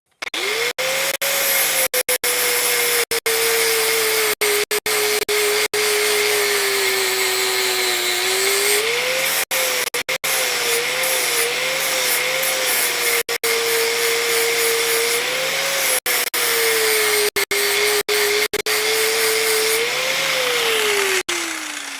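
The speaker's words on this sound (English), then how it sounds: "I'm going to do a quick burst with my flat disc, just to get the majority of that scale off." A handheld angle grinder with a flat disc strips forge scale from a blacksmith-forged steel cross peen hammer, a loud steady whine that shifts pitch as pressure changes, broken by brief pauses, with no talking.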